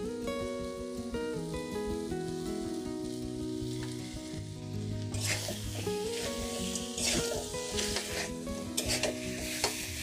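Crab tomalley stirs and fries in a pan with a soft steady sizzle under background music, occasional spatula scrapes growing busier in the second half.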